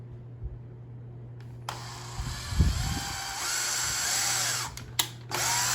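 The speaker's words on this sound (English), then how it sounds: "we're going to pre-drill these holes in" A power drill pre-drills screw holes for window blinds indoors, starting with a few soft knocks before a loud, continuous whine takes over and runs steadily with brief pauses near the end.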